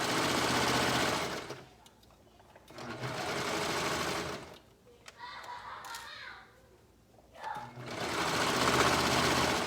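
A sewing machine stitches elastic onto swimsuit fabric for tankini straps, running in loud, fast, buzzing bursts close up, separated by pauses filled with handling sounds and a quieter voice.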